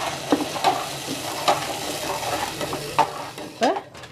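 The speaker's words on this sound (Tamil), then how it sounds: "இஞ்சி பூண்டு பச்சை வாசம் போக வதக்கிட்டேன்" Ginger-garlic paste sizzles in a hot pan while a spoon stirs and scrapes against the metal in regular, clanking strokes.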